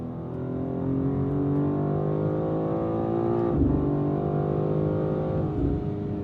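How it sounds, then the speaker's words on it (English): A BMW M2 CS inline-six car engine pulls hard under acceleration, a steady harmonic drone with rising pitch and two quick dips where gears change, loud and close. "Love the sound of that inline six as well."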